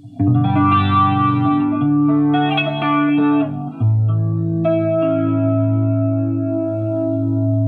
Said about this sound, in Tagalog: maririnig nyo na meron pa ring wavy na tunog, pero mabagal na siya.